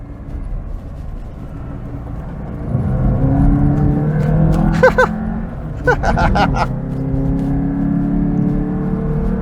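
Alfa Romeo Alfasud Sprint Veloce engine pulling hard uphill, a steady close rumble that swells and strains under load as revs climb, with brief sharper tonal bursts mid-way.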